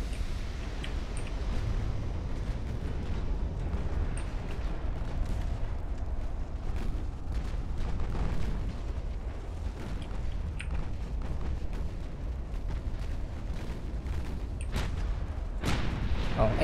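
Naval gunfire and shell explosions in a fleet-building video game, a continuous low rumble of distant booms with scattered sharper cracks of heavy guns, steady throughout under occasional talk.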